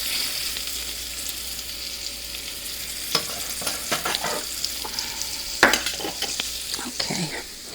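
Pork chops browning in a frying pan give a steady, close sizzle, broken by occasional scrapes and clinks of a utensil against the pan.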